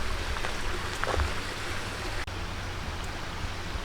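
A small tributary stream flowing below a short covered bridge, a soft continuous burble and hiss of water, faint and steady with a few brief splashes.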